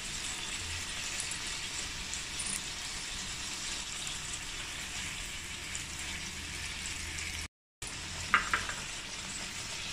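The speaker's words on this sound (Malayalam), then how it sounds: "മീഡിയം ഫ്ലെയിമല്ല കേട്ടോ ഞാൻ വറുത്തെടുക്കുന്നത്." Fish puffs deep-fry in hot oil, giving a steady, close sizzle and crackle throughout with a brief cut and a few sharp pops near the end.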